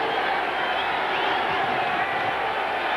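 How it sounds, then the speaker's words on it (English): A packed football stadium crowd at an NFL game roars in a continuous wash of noise, loud and sustained, with no distinct chant rhythm standing out. "Crowd chanting defense."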